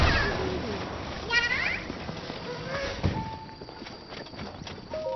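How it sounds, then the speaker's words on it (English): Horse hooves clop from a horse cart in the video game The Legend of Zelda: Tears of the Kingdom, irregular soft thuds amid game effects and chimes at moderate level. "Just this horse cart materializes out of nowhere."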